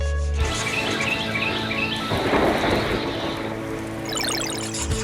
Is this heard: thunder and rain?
yes